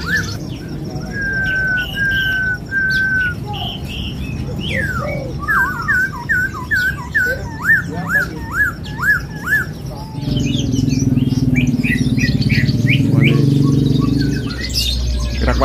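A caged songbird at a bird kiosk sings loudly and persistently in repeated whistled phrases and trills, with market background noise rising in the second half.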